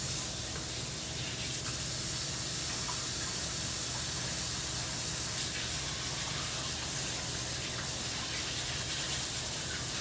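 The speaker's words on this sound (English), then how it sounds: "Now I'm going to rinse off my hands." Hands rinse under a steadily running kitchen tap, a continuous close gush and splash of water with no talk over it.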